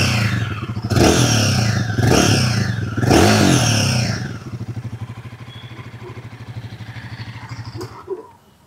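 A Royal Enfield Guerrilla 450 motorcycle revs up close, with three loud throttle blips rising and falling in its exhaust note before it settles back to a steady, throbbing idle.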